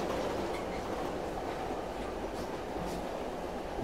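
A train rolls steadily through Silent Hill 3, a continuous loud rumble of rail noise and wheel clatter with no breaks, heard from on board or close by.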